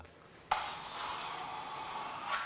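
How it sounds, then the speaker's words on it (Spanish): A spatula glides over natural wall plaster as the finish is smoothed, giving a soft, steady scraping hiss that starts abruptly and continues faintly and evenly, with no talking. "Este es el sonido de la espátula cuando el producto es realmente suave."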